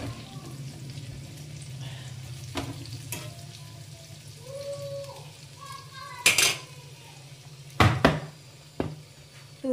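Lauki (bottle gourd) kofta fries in a pan with a steady low sizzle, while utensils clink and scrape against cookware in a few sharp bursts near the end.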